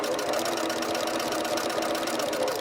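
A sewing machine stitches fabric while appliqueing onto gift bags, a fast, even mechanical whir with rapid needle clatter running continuously at close range, no speech over it.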